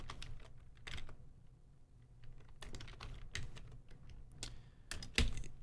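Someone types on a computer keyboard at close range, producing irregular bursts of light plastic key clicks separated by brief pauses, ending in one sharper, louder tap.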